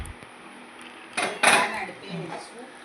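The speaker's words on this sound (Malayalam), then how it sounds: "ആ പാൻ അടുത്ത് വെച്ചിട്ടുണ്ട്" A pan is set down on a gas stove in a home kitchen while making Kollam-style unniyappam, giving a brief, close metallic clatter midway over faint room noise.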